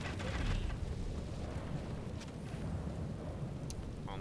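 Steady rain hisses over a low rumble of thunder on a battlefield in the Europa Barbarorum strategy game, constant and moderately loud with no voices.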